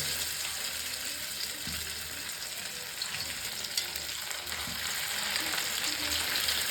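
Paneer cubes coated in cornflour and black pepper fry in hot oil with a steady, loud sizzle throughout, plus a few soft clinks of stirring.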